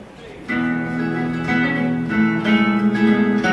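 A recorded song plays steadily, with a sustained singing voice over strummed guitar and backing instruments, fairly loud and continuous throughout.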